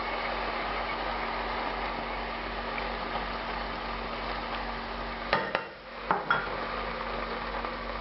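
A spoon scrapes and clinks against a pot of sweating vegetables with pureed tomatoes over medium heat, a few sharp metallic knocks near the end of a steady background hiss from the stove, with no talking.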